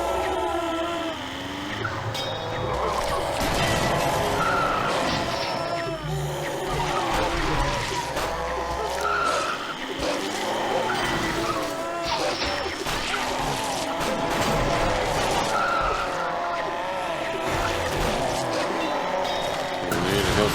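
A car in the video game Zombie Driver skids through a handbrake turn. Repeated tire squeals mix with crashing impacts and engine noise at a busy, constant level.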